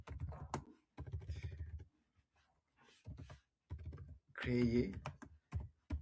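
Prompt typed on a computer keyboard in quick clattering bursts, with someone talking between and over the keystrokes and a brief panting, whimpering sound near the end.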